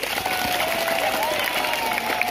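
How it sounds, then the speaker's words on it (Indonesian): Audience applause for a class of sixth-grade pupils at a school Isra Mi'raj gathering, a steady wash of many hands clapping throughout the short stretch with faint crowd murmur. "Tepuk tangan untuk kelas 6B."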